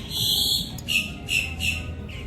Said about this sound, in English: There are like 7 birds.